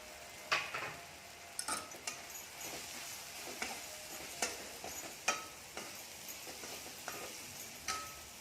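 Peanuts dropped into hot oil give a faint, steady sizzle, punctuated by scattered clinks and scrapes of a spoon against the pan.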